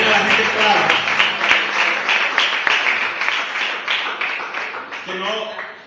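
A church congregation claps together in a steady, dense patter of many hands close by, with a few sharper claps standing out and a speaking voice coming through over the clapping.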